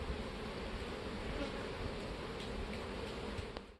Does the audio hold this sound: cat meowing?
no